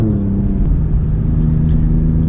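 An Alfa Romeo Giulia Quadrifoglio with over 500 horsepower and an 8-speed ZF transmission, driven in race mode, gives a loud, steady low engine and exhaust drone heard from inside the car, with no talking.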